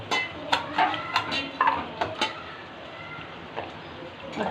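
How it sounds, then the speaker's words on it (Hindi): Potatoes being stirred into cooked minced goat meat in a pot, giving a series of scattered clinks and scrapes from a utensil against metal, moderately close and fairly quiet, with no one talking. "अच्छे से मिक्स कर लेंगे।"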